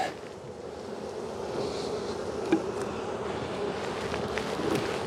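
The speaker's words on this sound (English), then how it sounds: "All the bees will," Bees buzzing around a hive box outdoors during a hive split, a steady close drone of many insects with occasional louder passes near the microphone and faint wind noise.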